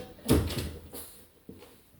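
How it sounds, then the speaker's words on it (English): A door thuds shut nearby with a single solid knock, followed by a fainter second bump a moment later in a quiet room. "I'll just shut the door, I don't want to hear that."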